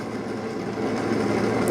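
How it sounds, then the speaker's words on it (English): Dreame L10s Ultra robot vacuum dock spins its mop pads in clean water and solution, giving a steady whirring motor hum with faint rattling, close and moderately loud, rising slightly partway through. "spinning them. You can hear it spinning."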